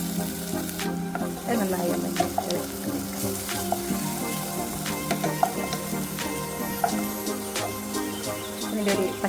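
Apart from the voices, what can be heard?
frying green chilli, garlic and ginger paste in a pan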